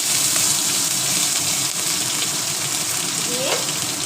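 Whole garam masala and ginger hit hot oil for a vegetarian potol dish, making a loud, continuous close sizzle and crackle with light stirring and a brief tonal chirp near the end.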